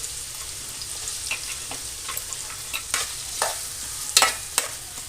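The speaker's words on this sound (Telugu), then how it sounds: "ఆయిల్ వేడైన తర్వాత ఆనియన్స్ అయితే వేసుకోవాలి." Onions sizzling and frying in hot oil in a pan for a small fish curry, a steady crackling hiss broken by a few sharper pops and stirring scrapes, close and fairly quiet.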